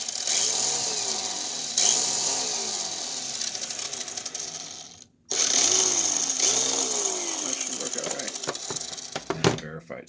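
A Tamiya 1:32 slot car motor driven by a micro ESC on a 2-cell battery whirs in short bursts as the trigger is squeezed, with rising and falling whines, a brief silence midway, and someone talking over it.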